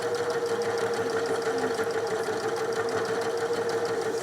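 A Janome mechanical drop-in bobbin sewing machine stitches a manual buttonhole with a steady, close, fast mechanical whir and rapid needle chatter running unbroken throughout.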